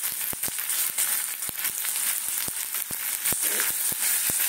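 Onion paste sizzles steadily in a hot pan with sharp, evenly spaced crackles and pops over a bright continuous hiss, close and fairly loud.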